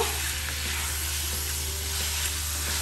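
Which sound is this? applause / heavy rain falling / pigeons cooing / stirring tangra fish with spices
stirring tangra fish with spices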